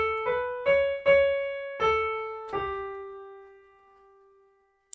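Keyboard notes pick out part of the Ganesh Aarti melody, five clear tones struck one after another at a slow, uneven pace, each ringing and fading alone.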